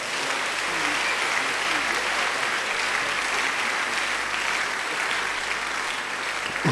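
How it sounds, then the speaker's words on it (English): A church congregation at a Wednesday night fellowship gives a sustained clap offering, dense crowd clapping that holds steady and loud throughout. "Let's give the Lord a resounding clap offering"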